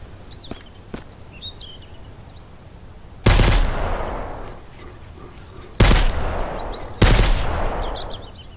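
Rifle gunfire in the survival game Mist Survival: three loud, sharp shots spaced a couple of seconds apart, each trailing into a long echoing decay, with birds chirping faintly in the background between them.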